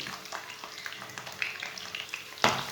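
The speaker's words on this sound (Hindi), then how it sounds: "प्याज को हल्का सा ब्राउन कर लेंगे।" Finely chopped onions fry in a pan with a soft, steady crackle and light stirring scrapes, ending in one sharp clatter of a spoon.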